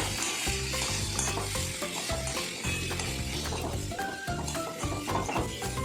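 Pea, cauliflower and paneer stuffing for momos is stirred in a pan, a steady close scraping and gentle sizzle running throughout with no voices.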